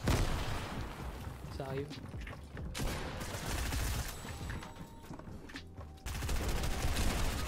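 Gunfire in Fortnite, bursts of rapid shots and booms amid a noisy mix of game sounds, with a player talking over it.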